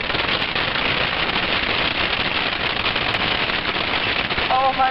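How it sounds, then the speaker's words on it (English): A hailstorm in southern Utah pelts surfaces with a dense, steady rattle, a loud continuous clatter of hailstones striking close by, with a faint voice briefly at the end. "It's a complete hailstorm in southern Utah."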